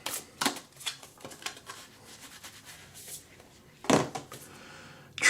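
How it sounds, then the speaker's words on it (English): A Whispers of Love oracle deck is shuffled by hand, a series of papery riffles and brushing slides in irregular bursts, close up, with a louder flurry near the end. "So first we are going to shuffle."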